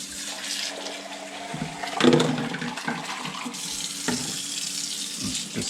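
Coffee machine parts are rinsed under a running tap, a steady close rush of water with brief splashes and clatter as the pieces move through the stream; no one speaks.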